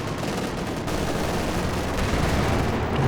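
Battlefield gunfire in Company of Heroes 2, including anti-tank rifles, forms a dense continuous rattle of overlapping shots with deeper thuds mixed in, loud and steady throughout, with no speech.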